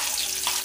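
Chopped onion hits hot mustard oil in a pan for a prawn curry, giving a steady, close hiss of frying that holds evenly through the short moment.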